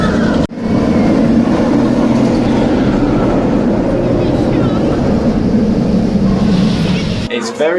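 A Katun inverted roller coaster at Mirabilandia races along its track on a front-row ride, a loud continuous roar of wheels and rushing wind from start to finish, with voices under it.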